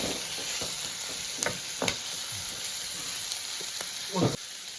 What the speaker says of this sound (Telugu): టమాటా అనేది బాగా ఉడకాలండి